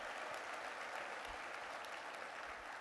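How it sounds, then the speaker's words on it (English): Continuous applause at a conference opening keynote for new academy graduates, a dense wash of clapping from a large audience, steady and somewhat distant. "Let's give a round of applause to the new graduates of Pulse Academy."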